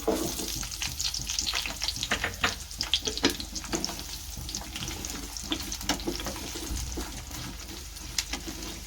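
Onions frying in hot oil for a matar paneer gravy, a steady crackling sizzle with repeated scraping stirs of a spoon against the pan, close and fairly loud throughout with no talking.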